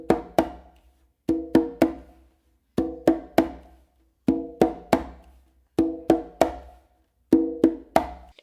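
A conga plays a tumbao with subtle slaps, a repeating pattern of three or four crisp hand strikes in quick clusters separated by short gaps, close and clear, with no voices.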